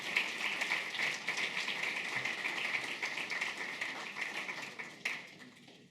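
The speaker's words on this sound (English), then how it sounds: "we give you one more round of applause for all of your efforts." Audience at a public utilities and infrastructure symposium applauding, a dense steady patter of many hands clapping that carries on for several seconds before fading slightly at the end.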